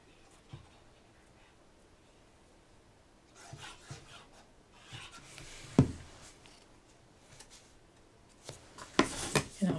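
Glue is spread across a paper card with soft, scratchy rubbing strokes, quiet at first and then coming in short close bursts.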